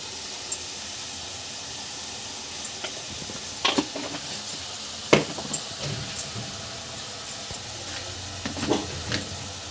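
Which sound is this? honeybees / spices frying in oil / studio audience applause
spices frying in oil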